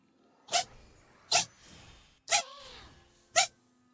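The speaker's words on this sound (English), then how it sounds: "My cat was behind me sneezing." A cat sneezes four times in a row, sharp short bursts spaced about a second apart, close by, with a faint high chirp after the third.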